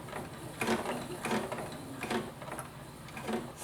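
A sewing machine stitches the small curved pieces of a baby hat slowly, giving short bursts of mechanical whirring and clicking separated by brief pauses as the fabric is pivoted.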